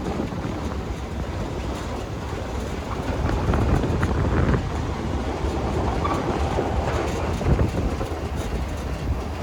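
A 1969 Dodge Charger drives through a residential neighborhood as a loud, continuous, broadband rumble of engine and road noise that swells slightly midway and holds steady throughout.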